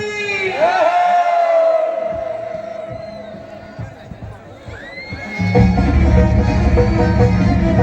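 A devotional jas jhanki music gathering erupts in crowd shouts of a jaikara, a loud collective cry rising after a sung call, with more crowd noise and music swelling near the end.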